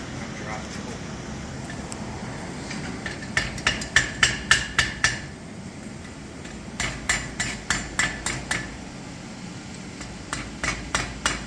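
Chain links are forge welded with a hammer on an anvil, giving rapid runs of sharp ringing blows in bursts separated by short pauses, while a person talks underneath.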